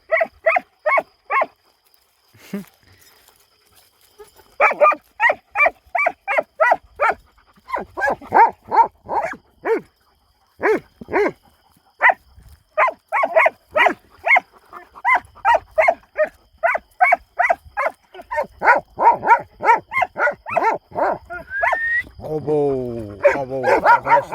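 Kangal dogs barking at night on a farm, a long run of loud, rapid, rhythmic barks in bursts, some from more than one dog, with a brief pause near the start and a whining, yelping call toward the end.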